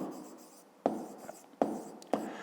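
Pen writing on paper in a school notebook during a fifth-grade math exercise, steady scratchy strokes broken by three firm taps or line starts, close and clear with no talking.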